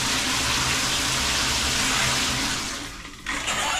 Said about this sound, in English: one setting works the tap, and the shower's just got the one setting.